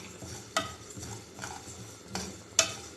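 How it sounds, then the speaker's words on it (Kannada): Mustard seeds dry roasting in a pan while a utensil stirs them, with a few sharp metallic scrapes and clinks at irregular intervals over a quiet background. "ಸಾಸಿವೆ ತಗೋತಿದ್ದೀನಿ. ಸೊ ಇದನ್ನು ಡ್ರೈ ರೋಸ್ಟ್ ಮಾಡ್ಕೊತಿದ್ದೀನಿ."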